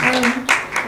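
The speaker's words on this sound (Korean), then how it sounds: "박수 한번 부탁드리겠습니다" Scattered clapping from a film festival audience at a screening talk, a few loud bursts close by, mixed with voices.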